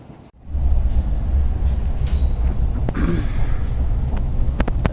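A passenger train at Kanyakumari station gives a loud, steady rumble and rattle heard from inside the carriage, with faint squeals and a few sharp metallic clicks near the end, and no talking.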